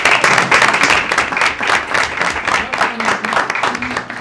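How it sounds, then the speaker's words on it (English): Audience applause at a city council meeting, a steady dense wash of many hands clapping without pause for about four seconds, moderately loud with faint voices mixed in. "Let's give Council Vice President Wu a round of applause."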